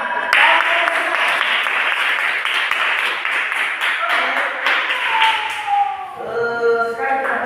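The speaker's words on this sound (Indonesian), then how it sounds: "Tepuk tangan." Children in a lower-grade classroom clap their hands together in a sustained burst of applause that holds steady, then fades as a bright chiming tone rings near the end.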